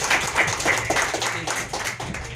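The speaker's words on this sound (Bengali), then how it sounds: "তাদের জন্য একটা জোরে হাততালি হয়ে যাক।" Audience applause breaks out in a thanks-giving moment, a dense patter of many hands clapping at fairly close range that holds steady for a couple of seconds before easing slightly.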